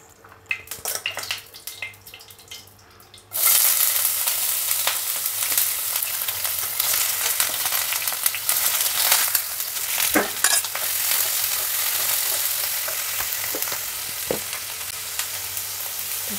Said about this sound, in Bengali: আমি এখন পনিরগুলোকে ভেজে নেব